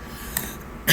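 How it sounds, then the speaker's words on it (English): A single short, sharp cough bursts out at the very end after a quiet stretch, close to the mic, with a faint throat sound just before it. "my cough is still here from yesterday"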